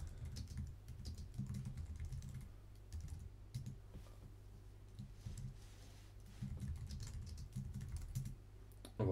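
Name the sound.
typing a name on a computer keyboard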